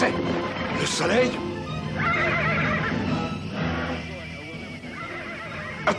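A horse lets out a loud, high whinny early on, with people talking over steady background noise throughout.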